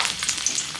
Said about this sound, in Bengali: এটার মধ্যে কাঁচা লঙ্কা ফোড়ন দিচ্ছি